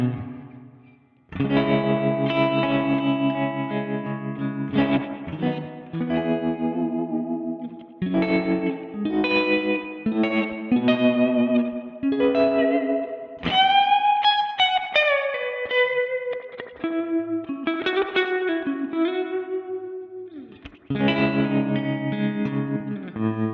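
An electric guitar runs through a ToneX One amp capture with chorus and effects, playing strummed chords and melodic lead lines with a shimmering, slightly driven tone, close and loud with no talking.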